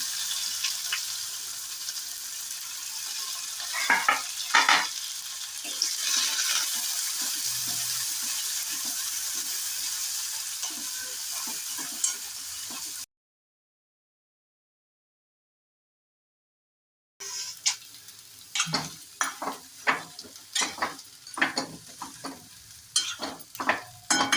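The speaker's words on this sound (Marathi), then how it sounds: "कांदा टाकून घ्या फोडणीला।" Onion goes into the hot tempering oil and fries with a steady sizzle. A spoon stirs and scrapes against the pan, then there is a stretch of silence, and after it the frying returns with louder clattering stirs.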